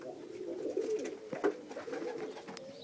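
Young pigeon squabs coo softly in short, low, throaty bursts while being hand fed, close by against quiet background noise.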